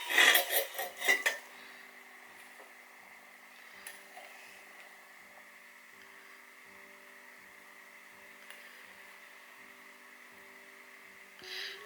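Metal tin clattering against a hard surface during a wet felting and eco printing session, a burst of several quick rattling knocks at the start that fades into a quiet room hum.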